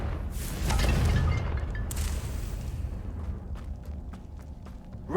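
Confringo spell explosion in a Harry Potter video game, a deep loud boom rumbling for a couple of seconds and then fading into quieter background sounds with a few faint clicks.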